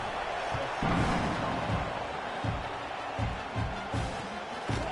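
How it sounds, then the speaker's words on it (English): A college football stadium crowd at an Oklahoma vs Texas A&M game buzzes after a score, a steady broad roar of many voices with occasional low thumps swelling through it. "this crowd is buzzing after that last score."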